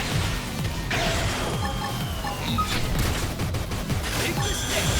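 Rapid gunfire bursts in a futuristic sci-fi action game, with dense repeated shots and crashing impacts layered over steady game music, close and loud throughout.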